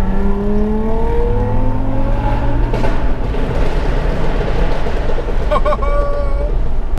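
Convoy of Japanese performance cars, including a wide-body Nissan 350Z and S-body models, rumbling along a motorway, with steady engine drone, rising revs and occasional whistling tones throughout, continuous and fairly loud.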